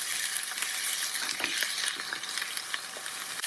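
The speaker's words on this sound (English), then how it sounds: "In go the onions. We want them deeply golden brown." Onions fry in a one-pot chicken Madras curry, a loud dense sizzle up close with quick stirring scrapes through it and no voices.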